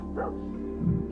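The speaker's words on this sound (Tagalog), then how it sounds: "Tumigil nga kayo sa pagtahol." Dogs bark in two short, close yips about half a second apart, moderately loud over a low steady hum, with no talking.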